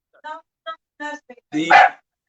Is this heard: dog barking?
yes